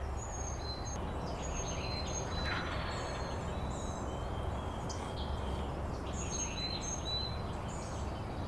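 Wild turkey toms and jakes on the ground in a private field gobble at a distance, with faint repeated calls over a steady outdoor hum.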